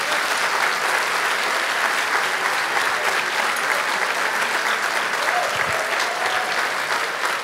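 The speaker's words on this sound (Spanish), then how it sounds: "Den un aplauso fuerte al Señor." A church congregation applauds loudly during a sermon, a dense, even wash of clapping sustained for several seconds without pause.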